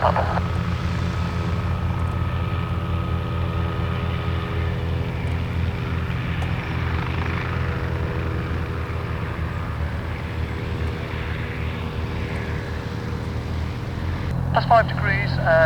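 A helicopter at Cotswold Airport, Kemble, runs with a steady, loud engine and rotor drone that holds for the whole stretch before a brief change near the end. Radio chatter plays over it.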